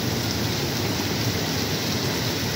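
Heavy rain pours steadily in Saudi Arabia, a dense, continuous hiss of downpour that stays loud and unbroken throughout, with no voices over it.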